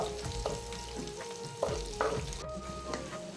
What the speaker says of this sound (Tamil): கோல்டன் ப்ரௌன் ஆகிற வரைக்கும் நல்லா வதக்கணும்